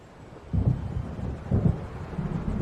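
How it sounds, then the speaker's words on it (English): Low rolling thunder of an approaching storm in the video game Alan Wake Remastered swells in two heavy rumbles over a steady windy, rainy backdrop, with no voices. "It seems there's a storm coming."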